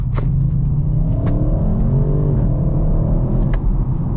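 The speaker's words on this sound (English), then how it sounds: "As you can hear, the exhaust opens up" A 2023 Audi RS6 Avant's engine and exhaust drone deeply as it accelerates, the rising tone climbing through gear changes in a continuous loud rumble heard from inside the cabin, with no talking.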